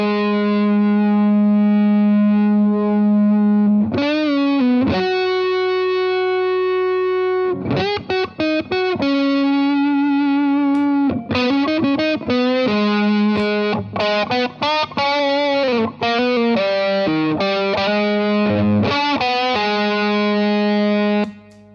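Electric guitar played through a Mad Professor Mighty Red Distortion pedal, loud and continuous, with sustained distorted chords and short riffs broken by a few brief pauses.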